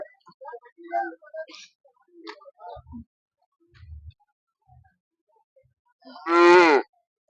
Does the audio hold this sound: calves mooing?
yes